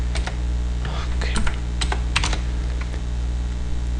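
Typing on a computer keyboard: scattered, close key clicks in short bursts with pauses, over a steady low hum.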